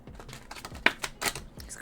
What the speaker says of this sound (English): These cards, sometimes they're just a pain in the ass to shuffle